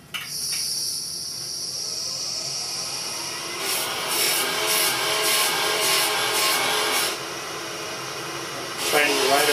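Burr King 760 belt grinder fitted with a blade sharpener attachment running steadily after being switched back on, a continuous close, loud whirring belt hiss with faint talk partway through.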